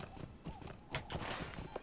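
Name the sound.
horse hooves while riding in video game Lord of the Rings Online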